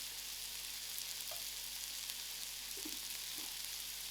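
Food frying in a pan over moderate heat gives a steady, even sizzling hiss throughout, with a few soft clinks near the end.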